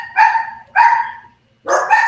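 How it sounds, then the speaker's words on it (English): Dogs bark loudly and close by, three sharp barks spaced about three-quarters of a second apart, with no talking. "Sorry for my dogs barking"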